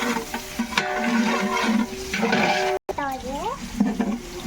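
Onions being sautéed in a pan for birthday biryani, stirring scrapes and soft sizzling with clinks of utensil against the pan, a brief cut midway and a voice speaking over the cooking.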